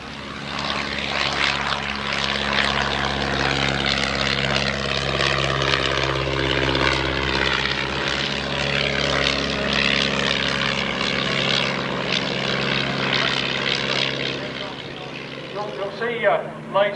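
A vintage propeller airliner flies at the Shuttleworth heritage air show, its engines giving a loud, sustained drone for most of the clip that fades near the end. People talk over the engine noise.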